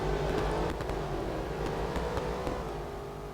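A field of twenty or so race cars launches together in the Real Racing 3 mobile game, engines droning in a dense, steady roar with scattered clicks, fading slightly toward the end.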